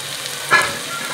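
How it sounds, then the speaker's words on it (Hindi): Onions fry in a pan for a mutton karahi, giving a continuous soft sizzle with a brief stirring swell in the middle. "देखिए प्याज को गोल्डन होने तक हमने इसे फ्राई करना है"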